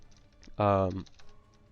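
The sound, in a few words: typing on a computer keyboard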